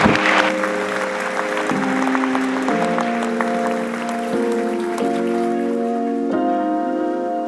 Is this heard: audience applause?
yes